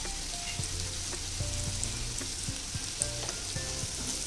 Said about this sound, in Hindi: और इन मसालों को हल्का सा भून लेंगे हम लोग